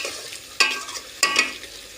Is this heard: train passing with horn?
no